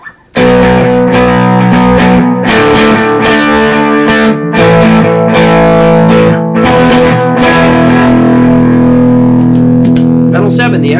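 Electric guitar runs through a Boss DD300 delay pedal on a large pedalboard, distorted chords and notes trailing into repeating echoes, loud and continuous with short gaps between strums.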